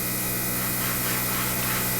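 A 0.3 mm needle airbrush spraying thinned paint at 12 to 15 psi onto a Kotare Messerschmitt Bf 109K-4 model kit, a steady close hiss running unbroken throughout with no talk.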